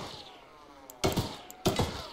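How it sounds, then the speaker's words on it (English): Two sharp, punchy bursts about half a second apart, gunshots in the video game Choo Choo Charles, over a faint background hum. "my computer can't handle the gunshots"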